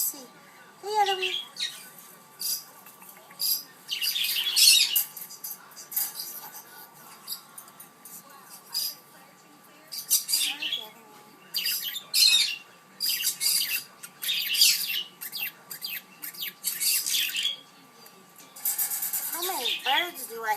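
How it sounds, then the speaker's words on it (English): A flock of pet birds in an indoor aviary squawks and chirps in bursts of shrill calls, with a person talking softly among them. "There's the birdies in the jungle."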